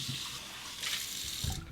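Hot water runs from a tap over a ceramic Shave Nation lather bowl, a steady close splashing hiss that swells and shifts briefly as the bowl moves under the stream.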